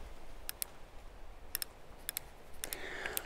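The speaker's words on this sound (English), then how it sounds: "after you're zeroed, you do have elevation adjustment, and you can probably hear that clicking" Sharp, quiet clicks from the elevation adjustment on an AR-15 sight, arriving in small paired bursts of two or three detents at a time against a soft outdoor background with no talking.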